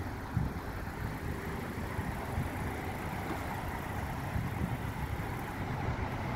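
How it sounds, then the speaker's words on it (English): A 2016 Honda Accord with manual transmission idles steadily after its key is pulled from the ignition, a low, even engine hum heard close by with no talking. "Take the key out the ignition, the car will stay running."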